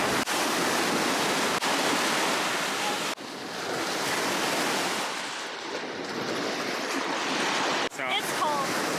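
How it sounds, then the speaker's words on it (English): Ocean surf rolls onto a cold shore as wind buffets the microphone, a steady loud wash of breaking waves with gusts throughout. "now we have waves and wind that have picked up"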